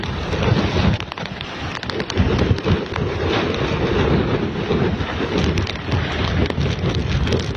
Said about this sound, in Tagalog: Kasi tumalakas na naman uli ang hangin.